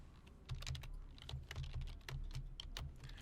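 Steady typing on a computer keyboard while writing program code, a quick run of close, crisp key clicks with short pauses and no talking.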